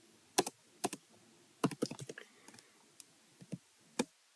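Keystrokes on a computer keyboard while Python code is entered, a dozen or so sharp clicks in irregular bursts, close and fairly quiet with pauses between them and no talking.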